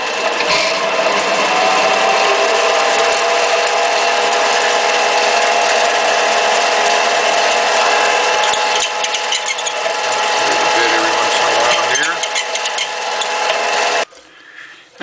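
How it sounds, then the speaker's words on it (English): A continuous high, whining drill grinds steadily through a casein pen body for about fourteen seconds, loud and close, then cuts off abruptly near the end. "I'm just about finished drilling the body here"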